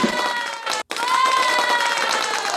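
A canned applause and cheering effect plays as a crowd of clapping and shouting voices, cut by a brief dropout of silence before carrying on loudly to the end.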